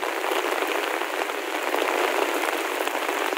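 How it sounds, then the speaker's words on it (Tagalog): Heavy rain pours steadily during flooding at the Marikina River, a dense, unbroken hiss of drops pattering on surfaces with no voices. "Ang lakas na ng ulan, mga kababayan"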